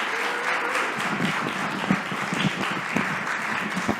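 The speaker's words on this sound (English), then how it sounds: "one more round of applause for the SHOWability Inclusive Choir" An audience applauds the SHOWability Inclusive Choir at a morning summit, a steady, dense round of clapping that fills the room and carries on throughout.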